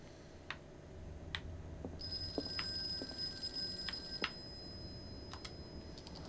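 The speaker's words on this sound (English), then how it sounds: "Let's pick up the phone." Telephone ringing in a horror role-playing game session, a few sharp repeated rings over a steady electronic hum and low background, no talking.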